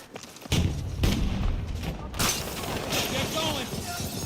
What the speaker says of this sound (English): Grenade out! Take cover!